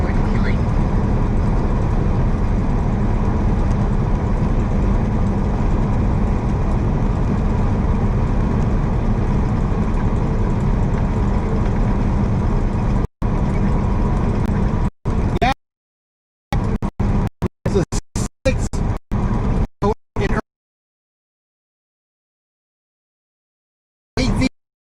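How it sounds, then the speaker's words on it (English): Truck with a Cummins X15 efficiency engine, 500 horsepower, cruising on a highway: a steady low engine and road drone heard from inside the cab, with someone talking over it, then cutting to broken fragments and silence. "we got the Cummins X15 efficiency engine in here, 500 horsepower"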